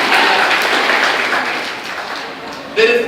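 An audience applauds, a dense wash of clapping that gradually thins out, followed by a short burst of voice at the end.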